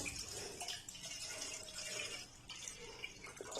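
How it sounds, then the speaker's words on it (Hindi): About two cups of milk pour steadily into a saucepan with a soft, continuous liquid splash and faint dripping, heard on its own at moderate loudness. "तो इसमें डालेंगे हम तकरीबन 2 कप दूध।"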